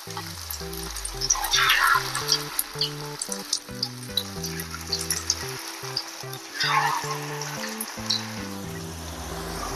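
Okra (bhindi) coated in rice flour fries in hot oil, giving a continuous crackling sizzle with bursts of bubbling, heard close under background music.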